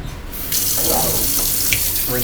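Tap water runs into a kitchen sink, rinsing out an emptied can of corn for recycling: a steady, close splashing stream with a brief gurgle near the end.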